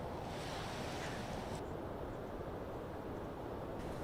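Surf washes steadily at Lancing beach, a white-sand, gently sloping natural shore, with a dense continuous roar and some wind rumble against the microphone, no voices.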